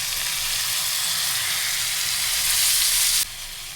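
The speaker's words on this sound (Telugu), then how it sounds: "మనం కట్ చేసుకున్న టమాటా ముక్కలు వేసాడు." Chopped tomato pieces hit a hot pan for a tomato curry, a loud continuous close sizzle that swells briefly and then abruptly drops to a quieter frying hiss.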